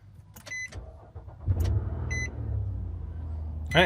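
A few electronic beeps, then a car engine cranks and catches, settling into a steady low idle rumble.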